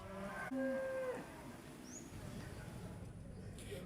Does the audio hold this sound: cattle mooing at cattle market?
yes